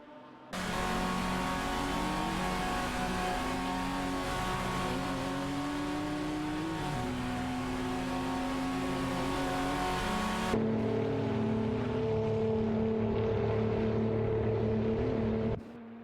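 Engines of game race cars, among them an RSR Jaguar XDR GT2 and a BMW M3 E92 GT, roar continuously with wavering pitch and a sudden change in tone partway through, loud and close, with no voices.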